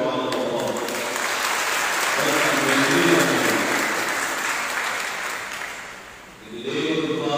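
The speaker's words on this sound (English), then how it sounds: "Let us give her a round of applause." Applause from the congregation welcoming a guest at a perpetual profession of vows ceremony, a broad, even roar of clapping that holds for several seconds, eases off briefly, then swells again.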